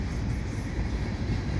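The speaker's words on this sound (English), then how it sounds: "I wanted to be closer to this train" A CP freight train hauled by NS foreign power with Herzog ballast MOW hoppers passes close by, a dense, steady low rumble and roar with no talk.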